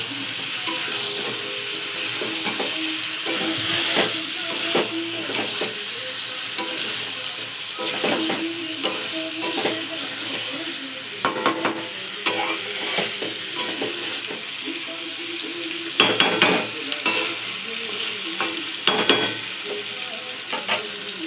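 Spiced food frying in oil in a pan, a continuous sizzle with scraping stirs and occasional sharper clinks of the utensil against the pan, steady and close throughout.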